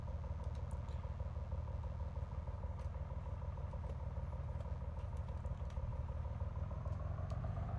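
Engine of a Cessna C170 taildragger taxiing on the ground in the MSFS 2020 flight simulator, a steady, loud low drone with a faint rattle running unbroken throughout, without speech.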